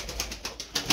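A pigeon coos softly and rhythmically in a rooftop terrace coop, several short low calls close by with no talking.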